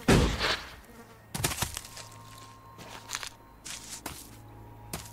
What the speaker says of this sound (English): A noisy buzzing worried me.